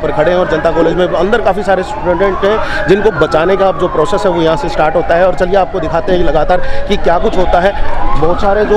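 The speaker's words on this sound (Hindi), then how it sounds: "यहाँ पीछे से सायरन की जो आप आवाज़ सुन रहे हो वो सारी यहाँ पर की गई है" A loud rising-and-falling siren wails continuously during an earthquake mock drill at a college, heard under a reporter's steady talking.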